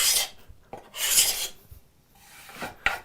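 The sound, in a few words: card scraper scraping wood into curls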